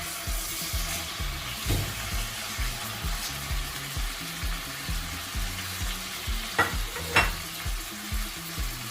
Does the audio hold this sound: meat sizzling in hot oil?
yes